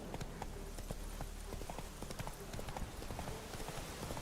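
Roach the horse galloping in The Witcher 3, a steady rapid clip-clop of hooves close by, running continuously with faint game ambience behind.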